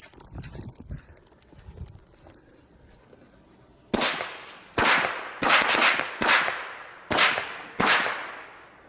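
Triplex Volt 3-2 firecrackers go off outdoors in a string of about six sharp, loud bangs at irregular intervals, each leaving a brief decaying echo, following a quieter stretch of background noise.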